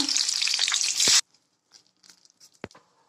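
Tamarind extract poured into a hot tempering of mustard seeds and curry leaves for puliyodharai, giving a loud burst of sizzling that cuts off abruptly, followed by faint stirring clicks and scrapes.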